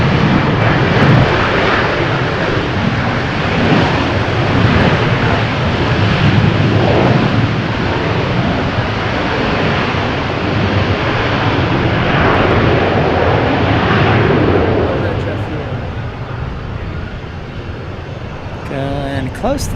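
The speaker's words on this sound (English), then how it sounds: "Nice touchdown there by Delta." A Delta airliner touches down at Milwaukee Mitchell International Airport, its engines making a loud sustained roar and rumble that slowly eases toward the end, heard from outside with voices over it.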